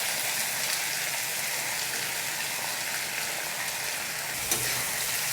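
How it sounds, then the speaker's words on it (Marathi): A lentil and onion mixture tipped into hot oil for thadi dal crackles in a dense, even, rain-like sizzle close by, with a single brief knock near the end. "लगेचच हे डाळीचं आणि कांद्याचं जे मिश्रण आपण केलं ना ते टाकून घ्यायचं त्याच्यात."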